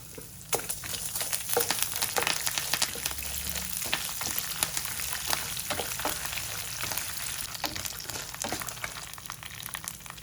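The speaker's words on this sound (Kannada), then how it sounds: "ಎಣ್ಣೆ ಫ್ರೈ ಆದಮೇಲೆ ಎಳ್ಳು ಹಾಕ್ತಾ ಇದ್ದೀನಿ ಹಾಗೆ ಒಣಮೆಣಸಿಕಾಯಿ ಮತ್ತೆ ಕರಿಬೇಕು" Sesame seeds and dried red chilies fry in hot oil with a steady, dense sizzle, broken by frequent sharp crackles and pops, with occasional stirring scrapes throughout; no voices.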